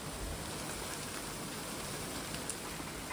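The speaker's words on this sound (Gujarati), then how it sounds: "જો વરસાદ આવે છે" Steady rain falls outdoors around a field where lemon saplings are being planted, a dense, even hiss with no pauses and no voices.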